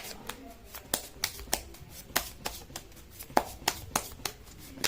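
Tarot cards are shuffled by hand, giving crisp, close slapping riffles that repeat at a fairly steady pace of roughly two or three per second, with a soft voice faintly present underneath.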